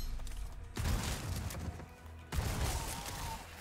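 Shotgun blasts in Resident Evil 4 Separate Ways, two loud booming shots with sharp onsets about a second and a half apart, each trailing into a rumbling decay amid game effects.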